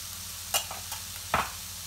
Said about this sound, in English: Give it another little mix.